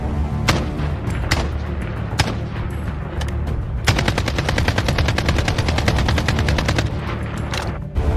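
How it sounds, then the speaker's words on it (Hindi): Sustained gunfire from a dramatized Jallianwala Bagh massacre, with rapid continuous volleys of rifle shots. They are loud and dense throughout, intensifying into a steady rattling barrage midway. "जालियांवाला बाग में लगातार चलती गोलियां"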